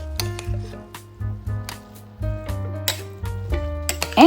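A spoon stirs rice and broccoli in a crock pot, giving close, soft scraping and clinking taps in an irregular rhythm against the pot, with no speech.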